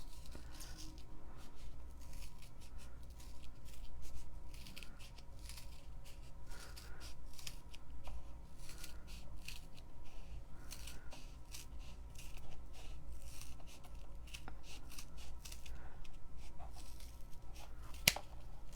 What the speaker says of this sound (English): So then I'm just gonna cut a little skinny piece.